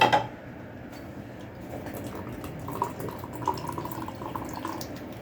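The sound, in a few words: water running from tap while cooking koshari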